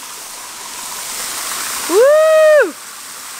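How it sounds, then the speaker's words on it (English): A man's shower runs as a steady hiss of falling water, with a brief loud whoop from him partway through, close and clear. "Seeing someone is enjoying his shower."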